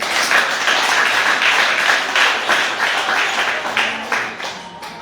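A church congregation applauds at a French-language service, producing steady, dense, loud clapping for several seconds that thins slightly toward the end, with no voices over it.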